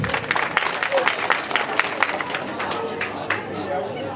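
A crowd at a Senoufo night event claps in a busy, uneven patter, with scattered loud hand slaps, while a murmur of chatter and voices runs underneath throughout.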